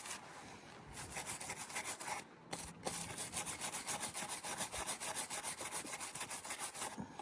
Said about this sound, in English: Got a scrubber.